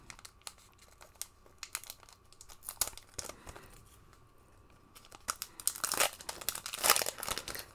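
A Murders at Karlov Manor Magic card collector booster pack is torn open: crinkling foil wrapper and sharp tearing noises build toward the end, close and fairly loud, with no talking.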